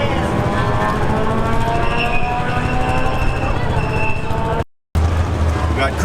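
Drift cars at a racetrack roar loudly and continuously, engines and tire noise filling the air from near the pits, with a brief dropout near the end.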